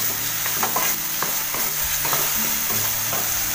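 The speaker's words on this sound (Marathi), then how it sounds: "नंतर हे बघा हे आपलं वाटलेलं वाटण आहे ना ते टाकते. चांगलं असं परतून घेऊया." Ground masala paste sautéing in hot oil with potatoes for a Konkan-style prawn curry, a steady broadband sizzle with soft scraping stirs every half second or so, close and alone.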